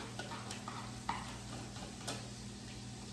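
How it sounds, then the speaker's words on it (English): Red onion sautés in a couple tablespoons of olive oil in a pan, a faint even sizzle with a few light clicks of stirring, quiet and close. "I'm going to saute that for a little bit"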